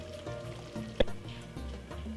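Beef and vegetables sizzle steadily in a pan while being stir fried for Jamaican-style pepper steak, a continuous close hiss with a sharp clatter of a utensil midway.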